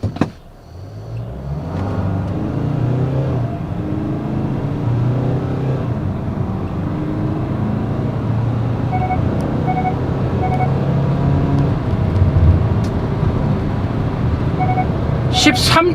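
A Hyundai Staria diesel van (177 hp, four-wheel drive) pulls hard from a standstill in a 0-100 run, its engine note climbing steadily as people talk inside the cabin, with a few faint chime beeps.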